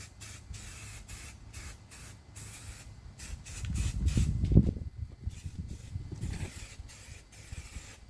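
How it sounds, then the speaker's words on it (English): Aerosol cans of Rust-Oleum undercoat paint hiss in short and longer bursts against the underside of a 1971 Chevelle, with a louder, closer spraying stretch in the middle of the clip and no one talking. "Using undercoat paint now. Rust-Oleum"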